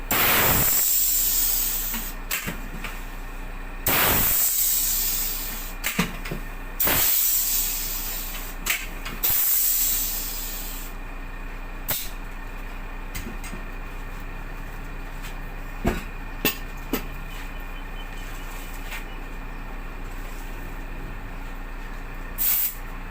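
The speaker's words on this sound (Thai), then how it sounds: "ใช้เครื่องกดขอบยาง กดยางด้านหลังให้หลุดออกจากกระทะครับ" A tire bead breaker works on a 10.00-20 trailer truck tire: loud pneumatic hissing surges with sharp clunks and releases, easing into a steady, quieter air hiss.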